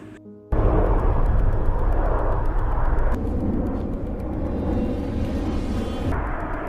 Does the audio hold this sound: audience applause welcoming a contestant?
no